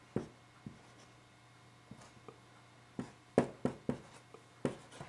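Pen or pencil strokes on paper as a sequence is written out by hand, a scatter of short scratchy marks and taps, close and fairly quiet, with brief pauses between bursts and no talking.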